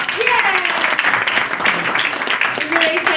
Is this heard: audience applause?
yes